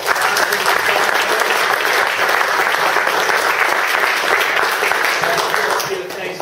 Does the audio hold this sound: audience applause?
yes